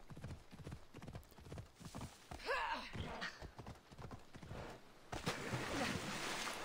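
Video game horse hooves clip-clop in a quick steady rhythm, close and clear, with a brief whinny partway through and faint splashing toward the end, in Assassin's Creed Odyssey.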